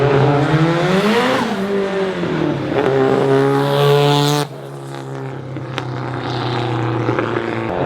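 Built Nissan SR20 engine in a car on a dyno, revving hard with a rising and falling high-pitched roar, then dropping suddenly to a lower steady drone, loud and close.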